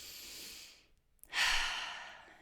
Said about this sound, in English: one of my favorite things to do is just to take deep breaths.